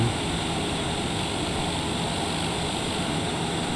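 A TBM 930 propeller airplane engine drones steadily and loudly up close, a constant buzzing roar with no break.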